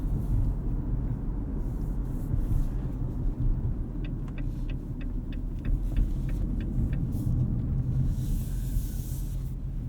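A 2018 Jeep Compass Sport 4x4 on the road, heard from inside the cabin as a steady low rumble of engine and tires, with a few faint ticking clicks partway through and no talking.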